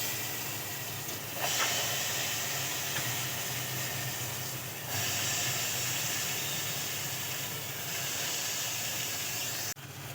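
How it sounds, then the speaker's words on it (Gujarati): Carom seeds, asafoetida and turmeric temper in hot oil, producing a steady, moderately quiet hiss and sizzle that holds throughout, with slight surges and no speech. "તો અહીંયા હું અજમાથી વઘાર કરું છું"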